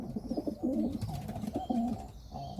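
Racing homing pigeons, long-distance birds, coo in soft, throaty, rolling phrases close by, several calls overlapping over a quiet background.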